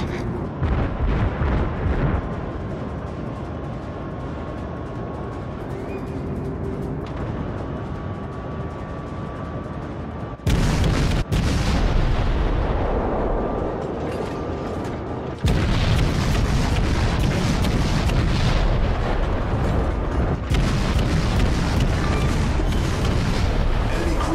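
Naval guns fire and shells explode in World of Warships, heard from the light cruiser Atlanta: heavy continuous booming and rumbling with sharp loud blasts breaking in, thickening into dense overlapping salvos toward the end.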